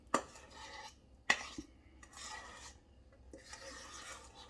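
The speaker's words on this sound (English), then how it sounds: "Scrape out as much as you can." Butter mixture for buttermilk biscuits being scraped from a bowl, with a few sharp scrapes and knocks followed by softer rasping strokes, close and fairly quiet.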